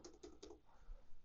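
Quick keystrokes on a computer keyboard while a password is entered during Netgear Nighthawk AX12 router setup: four or five close, crisp clicks in a short burst, followed by softer faint taps.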